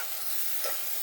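A pot of boiled chicken feet being stirred, a brief scrape and slosh of the spoon against the pot over a steady simmering hiss, close and fairly quiet.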